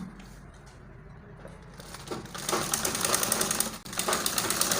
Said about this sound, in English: You just sew it round like this.